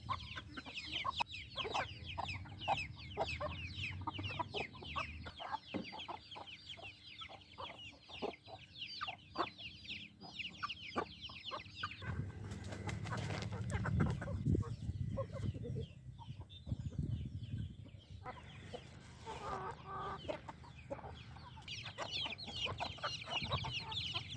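Chickens and chicks cluck and chatter in a busy, continuous flock while feeding, with short bursts of calls and occasional louder squawks, close by.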